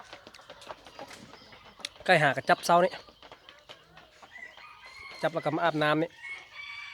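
Two loud, close crows from a decoy rooster, several seconds apart, each lasting about a second, with someone speaking between and around them.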